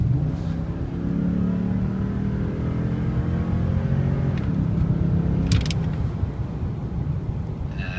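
A 2013 Toyota Tundra accelerates with a steady mid-pitched engine rumble that rises in tone, loud and continuous with no talking.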